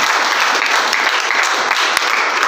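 An audience at a poetry gathering claps together, a thick, sustained wash of applause with a few sharper claps popping out of the steady patter and no voices heard.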